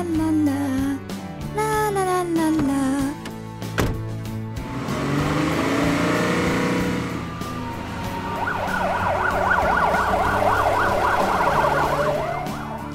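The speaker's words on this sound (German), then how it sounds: "Das ist ein weiß-roter Krankenwagen." Toy vehicle noises and music-like tones from a children's cartoon give way to a warbling ambulance siren that rises and falls repeatedly in the second half, fairly loud and close.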